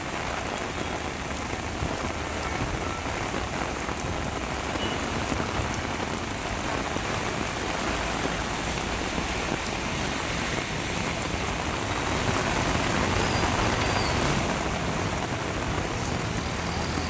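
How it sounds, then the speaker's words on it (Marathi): Heavy monsoon rain pours down in Kalyan as a loud, dense, unbroken hiss of rain on streets and surfaces, with no voices. "कल्याणमध्ये पावसाचा जोर अजूनही कायम आहे। मुसळधार पाऊस सुरू झालेला आहे।"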